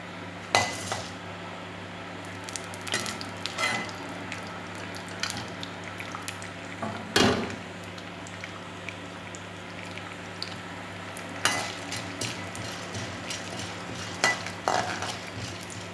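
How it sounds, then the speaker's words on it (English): Chana dal frying in a pan while a metal spoon scrapes and clinks against it in repeated strokes over a soft, constant sizzle, close by. "take some chana dal and stir it till it get fried"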